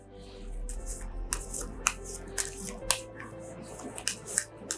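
Tarot cards shuffled by hand in short, soft papery bursts with a few sharp snaps, close and fairly quiet, no talking.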